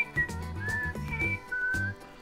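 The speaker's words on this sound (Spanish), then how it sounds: "Vamos a ver afuera quién está silbando." Tuneful whistling heard from outside in the PK XD video game: several sliding whistled phrases over a low, rhythmic pulsing background, fairly near and clear, with no talking.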